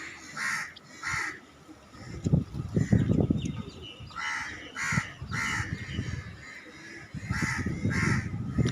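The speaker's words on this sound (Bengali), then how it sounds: "এটা হচ্ছে সাহসী কাক" Crows caw near a rooftop in repeated harsh bursts, several calls in quick succession with short pauses between. A low rumble of handling or wind runs underneath, with no talk.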